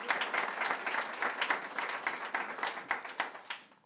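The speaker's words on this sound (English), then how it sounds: "Let's give another round of applause for the Chancellor." An audience applauds the Chancellor at a ribbon cutting for the T. Rowe Price Career and Innovation Center, dense sustained clapping from a crowd with a pulsing rhythm, fading slightly at the end.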